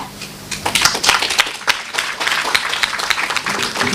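Audience at a national conference on NCDs bursting into applause, a dense burst of many hands clapping that rises quickly and holds steady for several seconds.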